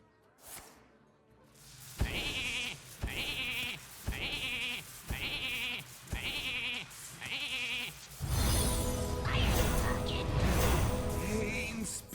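Sheep bleats from a Polymorph spell in the Hearthstone video game repeat six times in a steady, evenly spaced rhythm, loud and close, followed by a burst of game sound effects.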